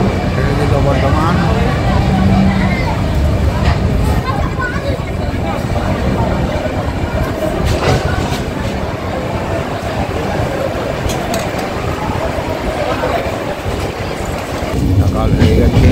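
Train rumble and rattle from Burdwan station as it pulls away, a continuous loud mechanical roar with faint clatter throughout; a voice speaks briefly over it.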